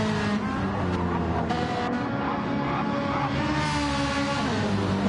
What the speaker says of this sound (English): Alec in the Ferrari fighting to hold on.